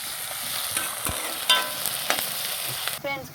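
Onions sautéing in oil for homemade pasta give a soft, steady sizzle, with a few louder stirring scrapes and clinks of a spoon against the pan. No one speaks.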